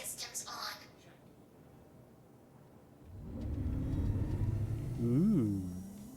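Spaceship systems powering up in Star Citizen, a low rumbling hum that swells after a few seconds and builds with rising whirring tones, loud and steady, following brief faint chatter at the start.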